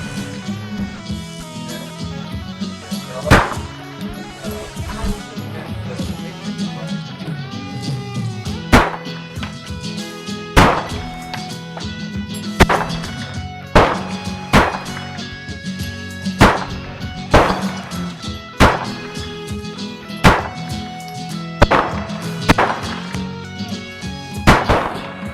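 A VZ61 Scorpion firearm fires a series of sharp, loud single shots at irregular spacing, growing more frequent toward the end, with sparse speech in between and a faint background hum.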